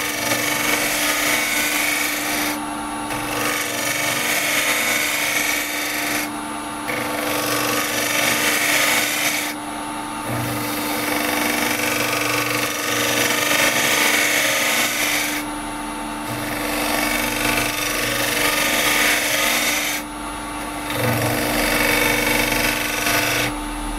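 A resin bowl being turned on a lathe with carbide chisels, giving a loud, continuous scraping rasp over a steady motor hum, surging and easing in regular passes as the tool is drawn across.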